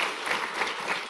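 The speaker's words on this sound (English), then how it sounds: "More claps." A brief burst of audience applause at a World Kiswahili Language Day celebration: a thick, close crowd of clapping hands swelling in small waves and cutting off abruptly.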